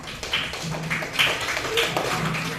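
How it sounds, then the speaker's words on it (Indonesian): Students in a classroom clap for a presenting group, a short, uneven patter of hand claps with faint voices mixed underneath. "Oke, tepuk tangan untuk kelompok 3."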